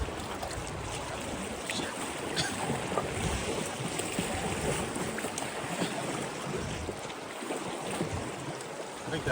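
Canoe paddled through moving water on a 30-mile Upper Peninsula wilderness float, with steady broadband splashing and rushing water close by, continuous throughout, and a brief exclaimed word.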